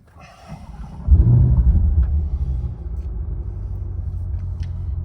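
A Corvette E-Ray starting up, with a brief click and whir followed by the engine catching into a deep, loud rumble that settles to a steady idle, close by, with no talk.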